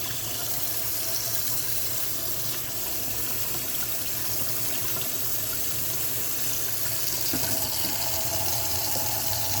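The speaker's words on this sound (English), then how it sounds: "Let's just do a good rinse first. Get all that surface crap off of there." Water running steadily from a tap or hose to rinse surface dirt off a GE appliance part, a continuous close rushing splash with no pauses.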